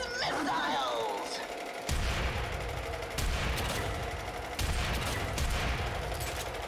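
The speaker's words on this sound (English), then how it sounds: "I'll be back right after these missiles." Missiles firing in the video game Warframe, with loud, dense bursts of explosive blasts arriving in several heavy waves over a constant rumble, and a voice briefly heard at the start.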